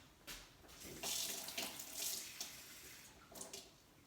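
Warm water runs from a kitchen tap for challah bread dough, a faint splashing gush that swells and shifts as it flows over a few seconds.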